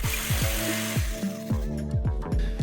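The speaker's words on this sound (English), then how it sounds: "First, I tried a jigsaw, which left pretty clean cuts," Jigsaw cutting a laminate floor tile, its blade chattering in a rapid repeating rhythm with a rising and falling motor whine, close and steady throughout with no voices.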